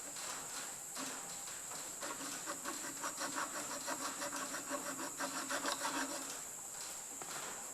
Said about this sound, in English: grab a file or a hacksaw or something like that and put a little witness mark on it